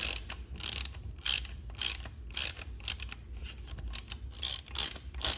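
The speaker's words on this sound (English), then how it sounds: "13mm deep socket. Tighten them as much as possible." A ratchet fitted with a 13mm deep socket tightens exhaust manifold studs on a Fiat 500 Abarth, giving repeated close, crisp clicking strokes in an uneven rhythm.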